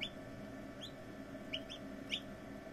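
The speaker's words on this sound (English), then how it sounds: "Chicks in the bathroom screaming all night." Newly hatched chicks peeping from inside a bathroom, a few short, high chirps spread unevenly over a steady low hum, faint and a little distant, with no voices.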